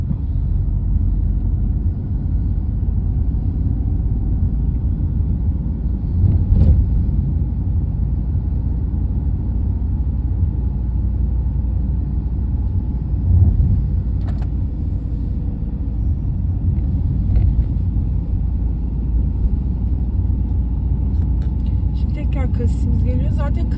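A car engine steadily accelerating on an uphill road during a B-class driving lesson route in Bornova, İzmir, with a constant low rumble throughout and someone talking over it.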